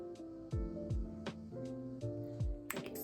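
A neighbor's lawn mower cutting grass drones steadily in the background throughout, with a repeated series of sharp knocks and thumps over the hum and no talking.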